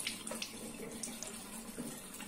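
Tap water runs steadily into a sink as a face is wet before washing in a morning skin care routine, with small splashes over the continuous flow and no talking.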